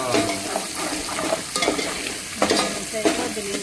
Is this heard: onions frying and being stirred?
yes